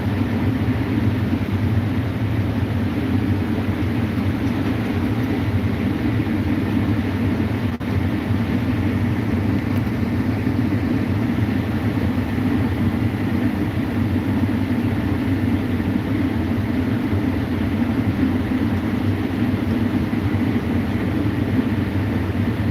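A combine harvester harvesting corn, heard from inside the cab as a loud, steady, unbroken engine and machinery drone that holds constant throughout with no talking.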